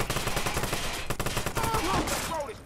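Sniper fire and other shots in the PS4 video game Watch Dogs crack in quick repeated bursts, with brief voices breaking in near the end.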